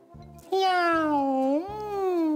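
A voice imitates a cat's meow with one long, sliding, drawn-out note over a steady rhythmic backing beat, during a children's stretching exercise.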